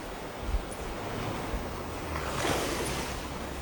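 Waves wash onto a beach in the morning, a steady broad roar of surf with a swell building toward the end and some wind rumble on the microphone.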